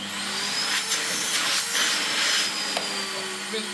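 A 1990s Panasonic MC-E53 upright vacuum cleaner runs steadily up close while picking up dirt, giving a continuous loud whooshing roar with small bumps and scrapes as it moves over the floor.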